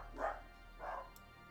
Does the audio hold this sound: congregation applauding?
no